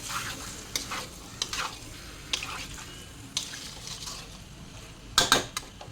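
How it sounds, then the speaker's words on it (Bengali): Spice paste is stirred and fried in a pan, with a soft steady sizzle under repeated scraping strokes of a spoon, close and fairly loud, with no talking. "এবার ভালো করে কষিয়ে নেবো একসাথে।"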